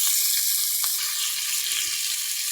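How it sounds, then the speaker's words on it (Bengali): Sliced onions and chillies fry in hot oil as the start of a pangas fish bhuna, giving a bright, continuous sizzle with a couple of faint stirring knocks early on. "এখানে আগে আমি ঝাল পেঁয়াজগুলো ভাজা নিচ্ছি।"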